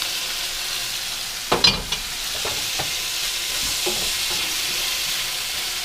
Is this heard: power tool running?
no